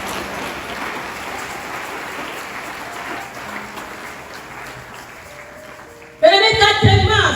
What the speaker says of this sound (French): On applaudit pour Jésus.